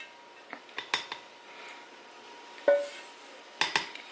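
Chicken pot pie ingredients, including local milk and organic butter, are mixed in a bowl, giving faint scattered clinks and scrapes of a utensil against the dish in a quiet kitchen.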